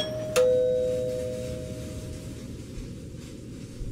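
A doorbell rings once with a single clear electronic ding that rings out and slowly decays, heard alone against a faint low hum.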